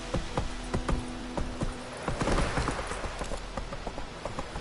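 The horse Roach's hooves in The Witcher 3, a steady rhythmic clip-clop of walking or trotting at moderate volume over ambient game sound.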